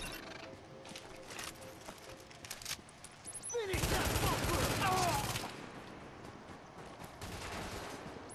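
Gunfire rattles in sustained bursts during a firefight in Tom Clancy's The Division, swelling into a loud, dense fusillade midway, mixed with game sounds and brief voice.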